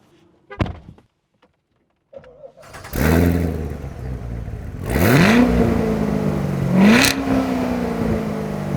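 A few thuds, then a C7 Corvette Z06 engine fires up and idles loudly before two sharp, rising revs, ending in a deep steady rumble.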